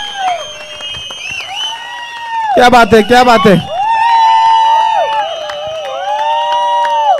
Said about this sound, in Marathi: एकदा शिट्ट्या टाळ्या जोरदार वाजत राहिल्या पाहिजे